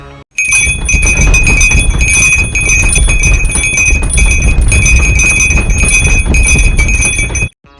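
Bells clang loudly and continuously in a dense, ringing wash, cutting off abruptly at the end.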